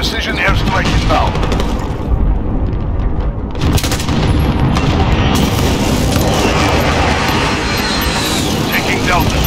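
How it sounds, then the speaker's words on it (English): Precision airstrike explosions in the Call of Duty Warzone video game, loud repeated booms mixed with machine-gun fire in a dense, continuous barrage, with voices heard amid the fighting. "Enemy precision airstrike inbound."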